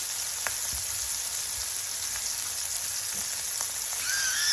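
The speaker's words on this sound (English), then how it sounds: "It's got a nice hot pan. And that's what we want, because all we're doing is we're just browning the edges." Hamburger steaks browning in a hot pan, a loud, dense, unbroken sizzle close up, with a few faint pops and light scrapes.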